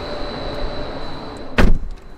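A Rolls Royce power door swings shut on its own, ending in one short, solid thump near the end of the clip over a quiet cabin hum with a faint steady whine.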